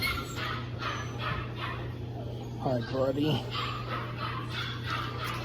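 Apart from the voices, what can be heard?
puppies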